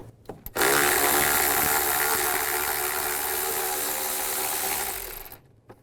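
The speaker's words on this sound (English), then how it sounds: "Take these 2 bolts out right here, the 10mm. Use a 10mm socket." A power tool with a 10mm socket spins out bolts on a Nissan Xterra during an idler pulley job. After a few faint knocks comes one loud, continuous whirring burst of about five seconds that tapers off at the end.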